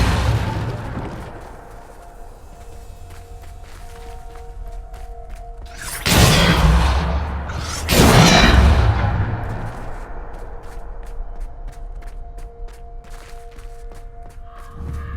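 Depulso force spell cast in Hogwarts Legacy, two sharp whooshing bursts a couple of seconds apart over a quiet ambient game backdrop, each flaring loud and fading quickly.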